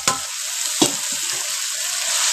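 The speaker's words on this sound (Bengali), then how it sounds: "মশলা কষাচ্ছি, মশলা থেকে তেলটা ছেড়ে দিয়েছে।" Spice paste sizzles and fries in oil in a pan over a hot stove, a close, steady hiss broken by a couple of sharp scraping stir strokes near the start.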